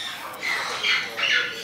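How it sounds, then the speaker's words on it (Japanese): Red lories, small red parrots called the blue-streaked lory, give harsh close squawks in two or three loud bursts over a noisy indoor bird-café background. "まずこちらの子たちはルイチガイショウジョウインコという鳥さんです。"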